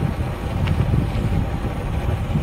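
A motorbike coasting in neutral on a hilly mountain road, heard as a loud, continuous rush of wind buffeting the microphone, with a low rumble and no clear engine note.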